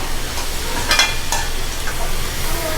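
Potatoes, carrots and beans sauté in a pan over a high flame for a veg pie, giving a steady close sizzle with a few sharp clinks of a utensil stirring near the start.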